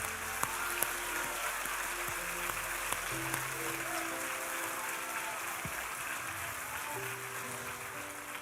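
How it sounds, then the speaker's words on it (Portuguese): A church congregation claps during a sermon, a dense, steady patter of many hands sustained throughout, with soft sustained musical tones underneath. "Vamos aplaudir Jesus."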